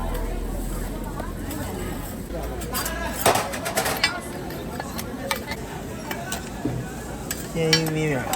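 A cornmeal pancake fries in a pan with a soft, steady sizzle, broken by scattered clinks and scrapes of utensils against cookware, with a voice heard briefly.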